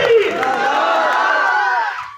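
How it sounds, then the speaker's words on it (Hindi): Crowd at an outdoor political rally in Chauhan Bangar cheers and shouts in a sustained roar that swells and then cuts off, loud and dense. "ताज डेयरी वालों ने बहुत ताली बजाई है"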